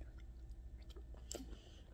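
Close, soft chewing of rice and gravy with corn, with quiet mouth clicks and wet smacks over a steady low background hum and no talking.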